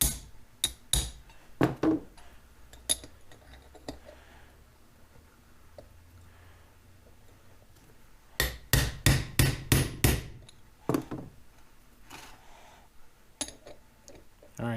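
Sharp metallic hammer strikes drive new bearing races into a Ford 9 inch rear end housing, first as scattered single blows, then as a fast cluster of loud, close hits with quiet pauses between.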